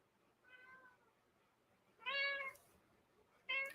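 A pet cat meowing to be let out: a soft meow, then a louder insistent one and a short sharp final cry, each close and clear against near silence.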